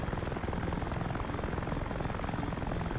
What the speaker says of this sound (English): Now this is just an AI Mi-24 Hind, and even it looks freaking awesome under these conditions.